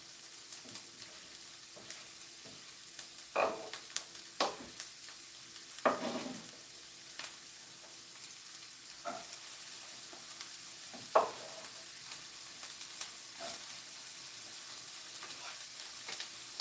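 Onions frying in a pan with a soft, steady sizzle, broken by a few louder scraping bursts as they are stirred; close and fairly quiet, with no talking.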